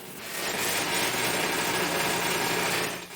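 An electric drill spins a homemade air duct cleaning brush with rotating rods at about 1300 RPM, a loud steady whirring buzz that swells up, holds for a few seconds, then tapers off, with no talk.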